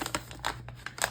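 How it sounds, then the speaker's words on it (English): Vellum sheet folded over for double thickness during restoration of a 1657 book, giving a series of short crisp crinkles and rustles spaced irregularly, close and fairly quiet. "I'm planning to do double thickness, so I'm going to be folding it over"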